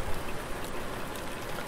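Steady rain hisses in Farming Simulator 19 as a soft, even wash of drops with no gaps, faint and continuous throughout.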